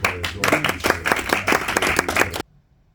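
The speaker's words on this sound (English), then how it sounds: "Give yourselves a round of applause." An audience claps in a brisk burst of applause after a class session, close and fairly loud, then it cuts off abruptly to near silence.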